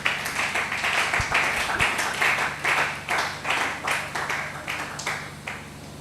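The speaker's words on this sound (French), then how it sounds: "Acclamons très fort" A church congregation at a Wednesday worship service claps loudly together, with dense applause that swells and fades in rhythmic waves and a few voices calling out underneath.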